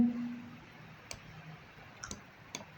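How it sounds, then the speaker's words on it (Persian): Three or four sharp, light mouse clicks, scattered and close, selecting the Blend tool in Revit, set against a quiet room hiss. "میام ابزار بلند رو کلیک کنم."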